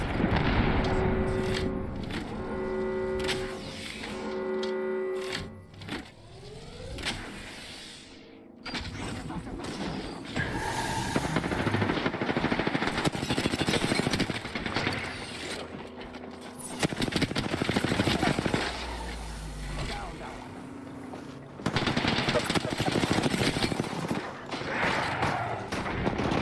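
Rapid gunfire in the battle-royale game Apex Legends rings out in dense bursts and fusillades, mixed with mechanical clatter and game effects, loud and continuous across the whole stretch.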